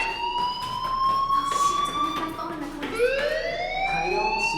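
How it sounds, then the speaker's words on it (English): A school fire alarm in the video game Life is Strange sounds as a steady, loud electronic wail with a sustained tone that swells and rises partway through, held continuously over background noise. "Hey, do you hear that fire alarm?"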